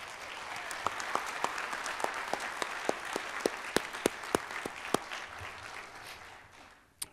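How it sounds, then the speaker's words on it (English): A long, steady round of applause from a seated audience at a school district Hall of Fame induction ceremony, dense clapping with crisp individual claps that tapers off toward the end. "can we all please give Scott a huge round of applause?"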